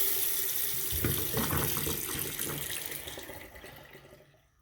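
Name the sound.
water draining from opened hot and cold faucets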